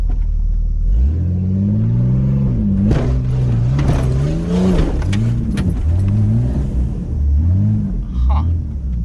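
Engine of a Jeep XJ revving and accelerating, its pitch climbing and dropping in repeated waves as it pushes up a steep slope, loud and close, with people talking over it.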